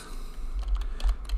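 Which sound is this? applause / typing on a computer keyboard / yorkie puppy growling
typing on a computer keyboard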